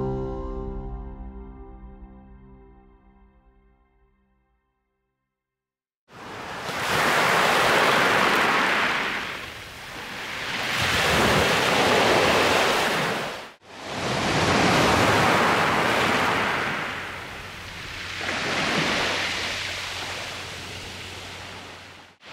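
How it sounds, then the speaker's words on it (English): Ocean waves break on a pebble beach, two long roaring washes of surf rushing in and hissing back over the stones, loud and close after a few seconds of fading tonal sound. "Site 4, top of the beach."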